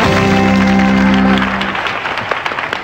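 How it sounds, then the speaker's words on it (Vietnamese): Studio audience applauding a game show contestant, a dense burst of clapping at first under a lingering musical tone, then thinning into scattered claps as it fades. "chúng ta sẽ cùng vỗ tay chúc mừng cho chị có thể thành công ở vòng thi đặc biệt"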